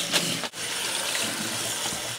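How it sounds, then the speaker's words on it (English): Cold tap water gushes steadily into a kitchen sink to rinse freshly cooked pasta. The rush stays close and even for about two seconds, with a brief dip midway. "I'm going to rinse it with cold water"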